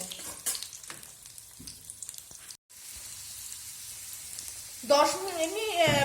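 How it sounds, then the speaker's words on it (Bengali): Potatoes fry in a pan for a bachelor-style chicken dish, giving a soft close sizzle with occasional stirring taps. A voice comes in over the frying near the end. "আলুটা দিয়ে আমি 5 মিনিট একটু কষে নেব, ভাজা ভাজা করে নেব"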